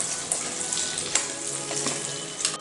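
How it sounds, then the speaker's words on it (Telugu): Fresh chillies stirred into fried onions and paste in a pan for mirchi ka salan, with a steady close sizzle and occasional scraping stir sounds throughout. "ఇప్పుడు మిరపకాయలన్నిటిని ట్రాన్స్ఫర్ చేసుకోవాలి ప్యాన్లోకి. సో బాగా ఆనియన్స్ అంతా కలిసేట్టుగా కలుపుకోవాలి"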